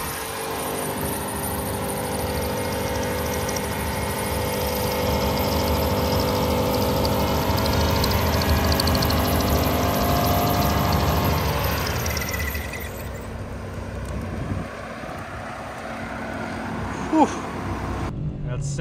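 A 2021 Ford F150 4x4 engine roars steadily at high revs in second gear during a burnout, loud and sustained with crowd voices over it, then drops away toward the end.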